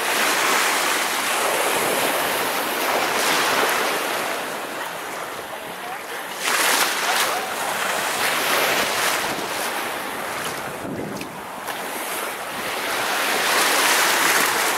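Baltic Sea waves wash and hiss continuously at the tip of the Hel Peninsula, a broad, loud surf roar with gusts of wind buffeting the microphone and gentle swells in volume.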